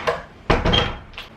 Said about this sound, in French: Je vais refermer la porte si vous voulez.